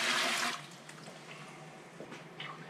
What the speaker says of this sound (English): this is my pressure canner, and I'm going to put the water in it.